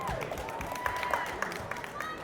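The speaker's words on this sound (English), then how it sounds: "Ladies, head round of applause." Round of applause for the speakers on a sneaker-community panel, a crowd clapping and cheering for a couple of seconds, with sharp individual claps and whoops above a dense wash of hands.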